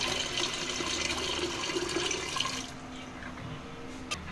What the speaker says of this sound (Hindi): अब इसमें थोड़ा पानी डाल देंगे हम।